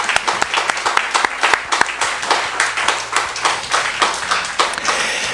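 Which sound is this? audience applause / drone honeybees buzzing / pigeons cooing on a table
audience applause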